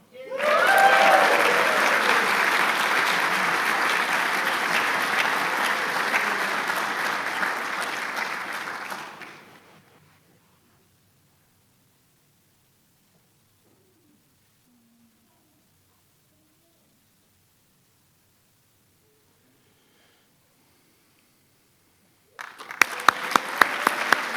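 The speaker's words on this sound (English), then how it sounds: "Please join me in applauding our individual award winners once again" An audience applauds award winners at a military warrant officer graduation ceremony: about ten seconds of sustained, dense clapping that fades out, a long silence, then a short burst of applause at the very end.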